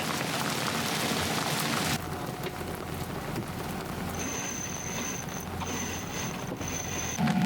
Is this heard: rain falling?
yes